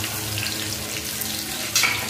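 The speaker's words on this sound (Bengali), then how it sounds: "সব কিছু একটু ভাজা ভাজা করে দেবো।" Chopped garlic and green chilli frying in hot oil with five-spice seeds in a wok, a continuous close, even sizzle with a brief brighter burst near the end.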